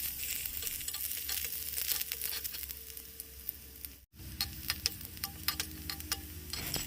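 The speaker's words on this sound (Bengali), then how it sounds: "ফোড়ন দেওয়ার পরে এর মধ্যে দিয়ে দেবো কুচো করে রাখা পেঁয়াজ।" Chopped onion fries in hot oil in a wok after tempering with bay leaf, cumin and dried chilli, making a steady, dense, close sizzle with a brief break midway.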